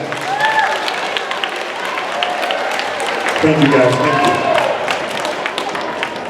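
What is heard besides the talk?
school assembly audience applause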